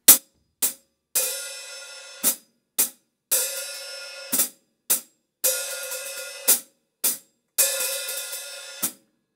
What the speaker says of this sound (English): So I was opening the hi-hat on 3, but I was resting on 4.